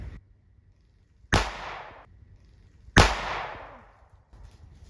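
A handgun is fired at a target outdoors. Two loud, sharp reports come about two seconds apart, each trailing off in a fading echo against a quiet background.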